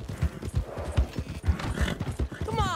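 Steady clip-clop of horse hooves at a walking pace, close and regular, with a brief whinny near the end and a voice talking over the hoofbeats.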